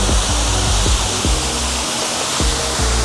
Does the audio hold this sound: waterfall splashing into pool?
yes